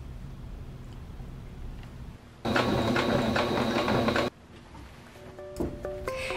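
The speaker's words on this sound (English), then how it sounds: "And then I'm going to pin it in place and sew." Sewing machine stitching back and forth along the slit of a gathered maxi skirt, a close steady mechanical whirr running for about two seconds before stopping.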